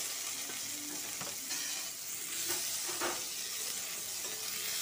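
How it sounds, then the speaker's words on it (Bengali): Chopped tomatoes fry in a pan with tempered spices while being stirred, giving a steady close sizzle with occasional scraping stir strokes and no talk. "টমেটোটাকে ভেজে নেবো ভালো করে।"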